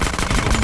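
Rapid automatic gunfire bursts loud and close in GTA San Andreas DYOM, a dense, continuous rattle of shots filling a brief moment.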